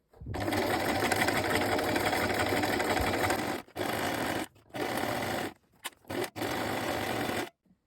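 A sewing machine runs steady stitching close to a fabric edge with a long stitch length while a skirt is sewn, a long loud run followed by several short bursts and stops.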